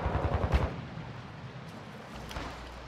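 A short burst of rapid gunfire in Call of Duty: Modern Warfare II crackles at the start, then fades into a low rumbling background, with another faint shot near the end.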